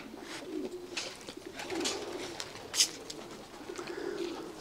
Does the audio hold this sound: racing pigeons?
yes